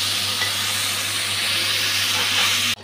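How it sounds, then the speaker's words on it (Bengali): Spice paste poured into hot oil with black cumin seeds, for a taro and hilsa fish head curry, sizzles loudly and steadily up close with a bright hiss, then cuts off abruptly. "দিয়ে দিচ্ছি গুলে রাখা মশলাটা।"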